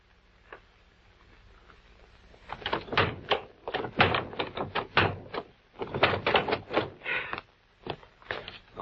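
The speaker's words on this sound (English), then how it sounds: "Door kind of sticks." A sticking front door in a radio drama is forced open with a run of close, loud thumps, rattles and scrapes that start after a quiet stretch and continue in uneven bursts.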